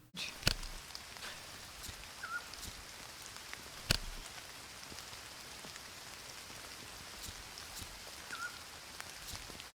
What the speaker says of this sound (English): The background sound is rain, of all things.